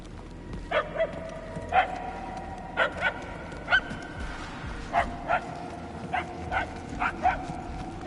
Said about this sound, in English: Whoever's barking must be close.